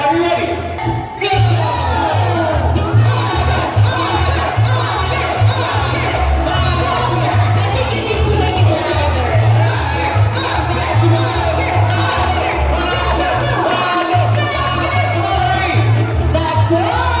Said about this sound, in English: can we all guys cheer for Michael as loud as we can, okay?